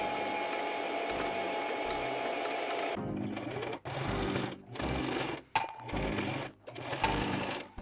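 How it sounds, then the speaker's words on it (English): A sewing machine stitches a tiered skirt, running in several steady bursts separated by short pauses. Its motor whirs close and loud over a low background hum that runs through the first three seconds. "So now I'm gonna sew it down on this side too"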